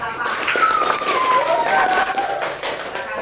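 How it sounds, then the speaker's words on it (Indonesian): Students in a primary school classroom clap for a group that has just presented, a brief burst of applause mixed with children's voices and excited chatter. "tepuk tangan untuk kelompok kelapa."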